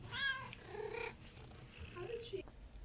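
A cat gives a few short meows close by, with soft purring underneath between the calls.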